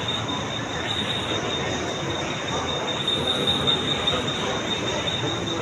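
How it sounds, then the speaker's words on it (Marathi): The Madgaon Express rolls along the platform at Dadar station, its wheels squealing in a steady high metallic whine over continuous rumbling of the railcars, with faint station voices. "train पकडतोय Madgaon express"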